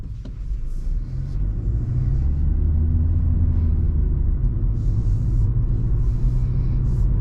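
2022 Hyundai Accent SEL with a 120-horsepower engine, heard from inside the cabin while driving and accelerating, a loud steady low rumble that builds and then holds, with faint bursts of higher noise on top.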